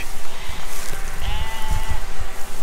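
Sheep and lambs on a farm bleat loudly and close by, several overlapping calls over a short span with wind noise.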